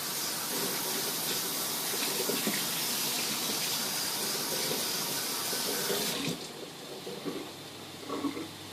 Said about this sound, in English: Quickly, got to rinse my cutting board real quick.